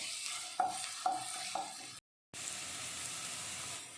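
Ginger garlic paste and chopped green chili sautéing in hot oil for a potato samosa filling, a steady sizzle with a few sharp stirring scrapes, a brief gap, then continued even frying hiss.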